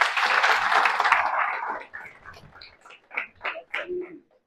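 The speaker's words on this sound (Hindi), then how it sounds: "आप सबके लिए जोरदार तालियां।" Enthusiastic audience clapping at a Mother's Day event, dense and loud for under two seconds, then thinning into a few scattered, separate claps and faint voices as it dies away.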